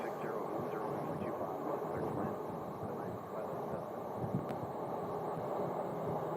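A passenger plane taxiing toward runway 25 right at Phoenix airport, a steady distant engine drone blended with wind noise, under a voice commenting.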